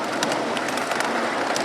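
A miniature live-steam railroad train runs on rails at a railroad park in Medford, Oregon, giving a steady close rumble with faint rhythmic clicks from the wheels.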